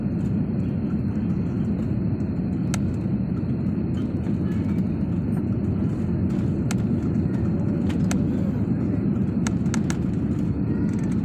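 Steady, loud broadband roar of a passenger jet cabin as the flight lands at King Fahd Airport in Dammam, continuous throughout with occasional faint clicks and rattles.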